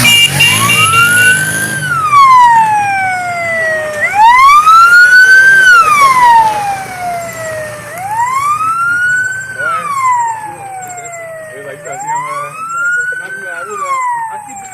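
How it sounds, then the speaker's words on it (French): An ambulance siren in Goïtafla wails loudly and close in long rising and falling sweeps, about four cycles, with voices and background noise underneath. "Goïtafla reçoit sa première ambulance"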